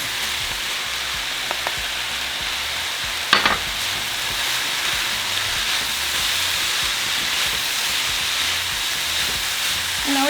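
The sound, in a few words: tomatoes added to beef picadillo sizzling in pan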